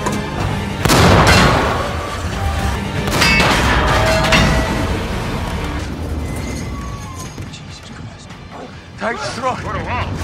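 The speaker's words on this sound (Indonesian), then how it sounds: "Peluru dari Fury akhirnya mengenai sasaran, menembus lapisan baja bagian belakang Tiger dan menghancurkannya." A tank cannon shell from the Sherman tank Fury striking a Tiger tank in battle, heavy booming crashes near the start and again around three seconds, with shouted voices and rumbling battlefield noise throughout.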